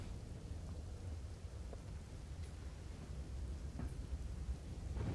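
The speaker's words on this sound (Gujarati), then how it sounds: "સતત ભારે વરસાદના કારણે અમદાવાદ જળબંબાકાર થઈ ગયું છે" Heavy monsoon rain pours down in the Makarba area of Ahmedabad, a steady, soft hiss with a low rumbling undertone, heard at a fairly distant, quiet level without any talking.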